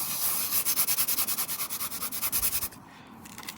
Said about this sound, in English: thought I might as well explain when I mean a light sanding.